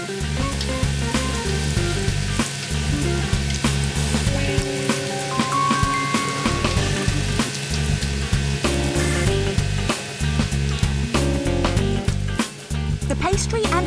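Prawn wontons wrapped in pastry fry in oil, a loud continuous sizzle with frequent crackles throughout, while a voice talks over it and music plays underneath.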